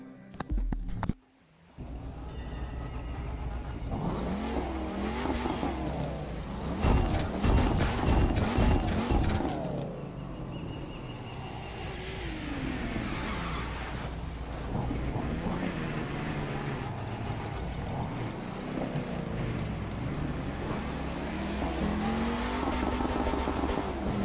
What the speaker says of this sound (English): we're going to be driving the Jeep 2012 Jeep Wrangler Rubicon Edition